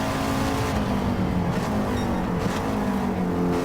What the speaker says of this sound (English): You can hear that engine as we come past.